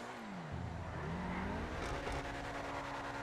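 Obey 10F sports car engine in GTA 5 revving up through rising gears, a steady continuous in-game engine drone with pitch sweeps, fairly quiet overall with no talking.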